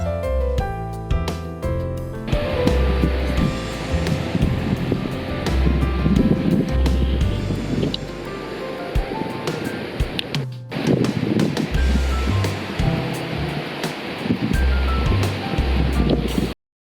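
Waves at a beach in Pondicherry roll and wash continuously, loud and close, with heavy wind buffeting the microphone and some low rumbling throughout.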